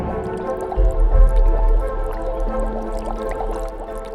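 Bubbling mud pot at Norris Geyser Basin in Yellowstone, giving repeated wet plopping and dripping bursts close by over a steady background rush.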